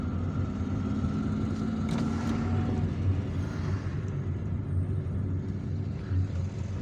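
Steady road traffic in Algiers rumbles continuously from inside a car with the windows closed, a low, even drone of engines with no distinct passes, and no one talking.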